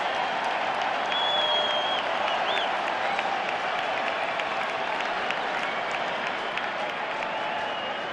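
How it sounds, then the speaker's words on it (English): A big ballpark crowd at the Phillies' 2022 season opener against the A's cheers and applauds in a dense, steady roar, with faint whistles rising through it. "The crowd coming to life."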